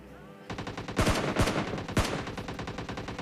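Rapid automatic gunfire crackles in a battle royale shooter match, with dense bursts of shots and several louder, sharper cracks over a steady stream of fire.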